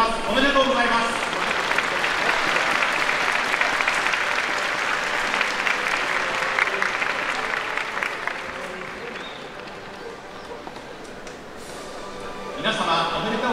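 Spectators at the 2023 Takamatsunomiya Kinen horse race awards ceremony applaud in a long, sustained round of clapping that gradually softens, with a public-address voice speaking over it and rising again near the close.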